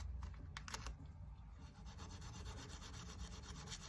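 A brush lightly scrubs gunk off the frets of a cigar box guitar, producing quiet, soft rubbing strokes that repeat in a quick back-and-forth rhythm, faint and close, with no talking.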